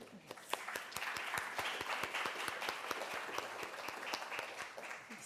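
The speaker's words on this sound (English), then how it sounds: "All the claps, all the clap emojis." Audience applause at a journalism symposium, individual claps distinctly audible in a fairly quiet, even patter lasting several seconds.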